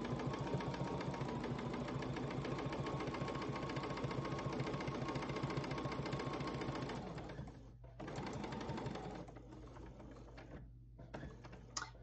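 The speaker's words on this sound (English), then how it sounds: "continue sewing down that side" A sewing machine runs a quilt binding in patchwork quilting. It stitches in a steady, rapid, close run for about seven seconds, then breaks into short stop-start bursts with brief pauses. No one speaks.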